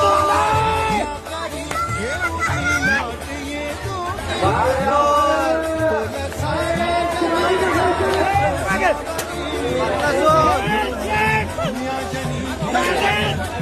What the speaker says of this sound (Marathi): तुम्ही सांगितलेले पेक्षा जास्त गर्दी झाली बाकासूरला बघायला गर्दी